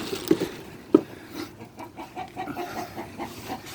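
Chicken clucking in a garage during a CV axle job on a 2007 Chevy Malibu, with a couple of sharp close calls early, then a run of soft, rhythmic clucks repeating steadily.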